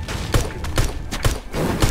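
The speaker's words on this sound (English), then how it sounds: "There's literally a person over there shooting." Gunfire in Fortnite Battle Royale, a series of evenly spaced loud gunshots roughly every half second, punchy and close.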